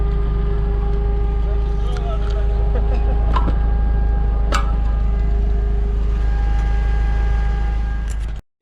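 Steady loud engine drone from a UAZ Bukhanka off-road van with its exhaust torn off, a constant low rumble with tonal hum throughout, plus a few faint knocks and clicks over it, ending abruptly.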